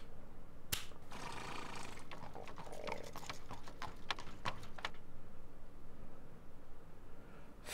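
Horse hooves clip-clopping in the Bertram Fiddle adventure game, a run of sharp, evenly spaced clicking hoof beats up close, fading out after a few seconds over a steady background hiss.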